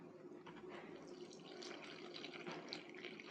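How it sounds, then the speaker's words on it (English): Liquid trickles and drips softly into waffle batter in a home kitchen, a faint, continuous pour with light splashy ticks. "we're going to pour a little bit, stir, pour a little bit."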